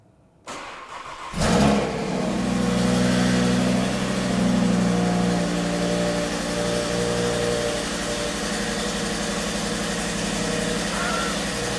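An Audi RS3 with a Stage 2 build cranks and catches, then revs up loudly and settles into a strong, steady rumble close by, with no talking.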